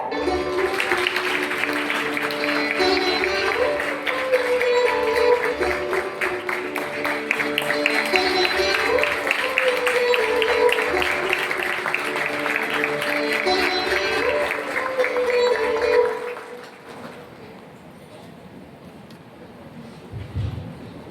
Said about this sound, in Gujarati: છોકરાઓ ફરીવાર જોરદાર તાળી